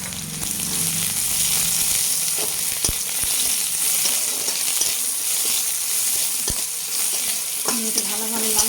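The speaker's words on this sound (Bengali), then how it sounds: "আমি এটা ভালোভাবে লাল করে একটু ভেজে দেবো।" Black cumin, chopped garlic and chopped onion frying in hot oil: a loud, steady sizzle broken by a few crisp spatula taps and scrapes against the pan, with no talk.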